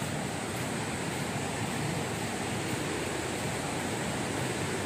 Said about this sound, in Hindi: यार बहुत खूबसूरत लग रहा है यार यहाँ का वाटरफॉल, और बारिश है ना तो पूरा पानी भर भर के है